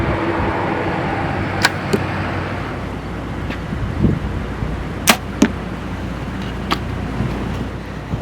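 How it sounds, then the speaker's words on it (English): Several sharp, quick arrow releases from bows and whooshing thwacks, a few close together, cutting through a steady rush of wind noise outdoors on a very windy evening. "we just got done shooting bows"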